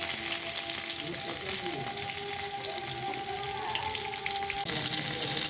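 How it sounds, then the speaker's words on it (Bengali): Pointed gourd sizzling as it fries in a pan, a steady, dense hiss that carries on without a break, with faint tonal hums and a few clinks mixed in. "পটলটা ভাজা হচ্ছে"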